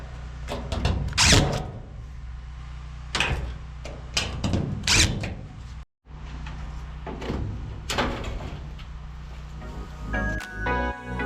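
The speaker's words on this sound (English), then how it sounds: "make sure you get all the bottom screws screwed in first" A power drill drives screws into the panels of a metal shed under construction, heard as several short, loud whirring bursts with clattering between them and a brief silent gap near the middle.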